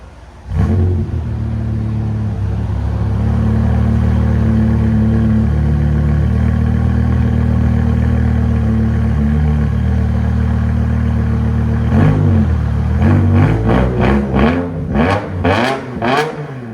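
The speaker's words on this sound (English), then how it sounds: "BMW M5, fully straight pipe." A 500 hp BMW M5 with a 5.0L V10 and straight pipes idles with a loud, deep drone, then blips sharply through a rapid series of aggressive revs near the end, right up close with no talking.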